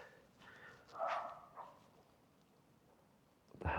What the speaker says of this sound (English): It sounded like a really big dog.